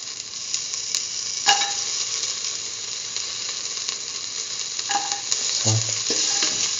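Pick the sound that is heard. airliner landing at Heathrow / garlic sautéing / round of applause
garlic sautéing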